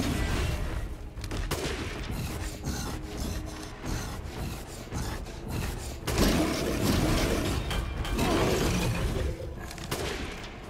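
Gunshots in Resident Evil Village, a run of sharp cracks and bursts of firing spread unevenly, with scraping and rubbing noises mixed in between shots.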